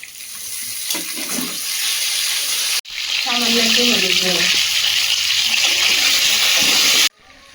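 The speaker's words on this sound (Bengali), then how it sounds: "এবার পুঁই শাকটা ভেজে নেবো" Malabar spinach (pui shak) is dropped into a pan with half-fried potatoes and sizzles loudly and steadily, with a stir and a cut partway through. A voice talks briefly near the start.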